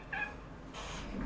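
A pet cat gives a brief, faint, close meow, a short plaintive call with a slight second sound after it, over a quiet room background.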